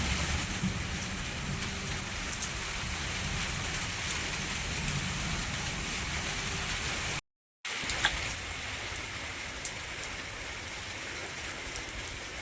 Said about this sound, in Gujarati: વરસાદ ઊભો રહેવાનું નામ જ નથી લેતો.